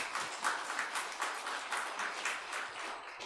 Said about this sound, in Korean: 우리 모두 박수로 환영했습니다